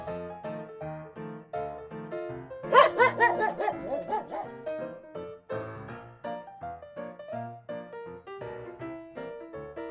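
A dog barks several times in a quick burst over bouncy, plucked background music that carries on after the barking stops.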